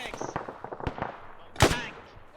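Gunfire from a player shooting in an ArmA/DCS military combat game: a quick run of sharp, close shots with one loud, heavy blast partway through, followed by a fading tail.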